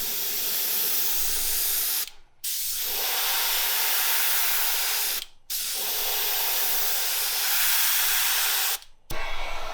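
A heat gun blows a steady, loud hiss of hot air to cure a soft plastic swimbait, running in long continuous bursts with three brief cut-offs and no talking.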